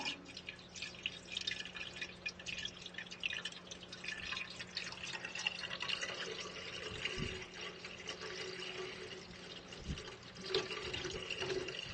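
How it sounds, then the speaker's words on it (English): Antifreeze coolant pours steadily into a truck radiator, a continuous liquid splash and trickle with dripping, faint and close throughout. "I'm going to dump some antifreeze in here, some coolant"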